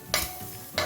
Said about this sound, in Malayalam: ഞാൻ ഈ ഒരു ചട്ടുകം ഉപയോഗിക്കുന്നുണ്ട്, ഇത് കുഴപ്പമൊന്നുമില്ല കേട്ടോ. ഇത് കാസ്റ്റ് അയണിൻ്റെ പാനല്ലേ.